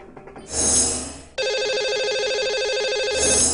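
A telephone rings on a radio show line while the lucky caller is dialled: a loud, clear electronic ring tone that cuts off, then repeats in a steady burst, with no talk.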